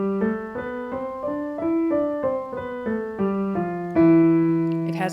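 A Phrygian mode scale rises note by note on a pitched instrument, each tone plucked or struck with a clear attack and ringing decay in an even rhythm, ending on a louder, sustained final note.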